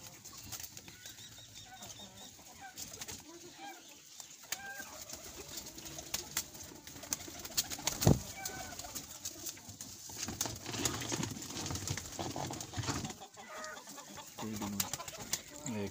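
Kasuri teddy pigeons coo softly in a loft, with wing flaps and rustling movement throughout and occasional sharper calls nearby, with no talking.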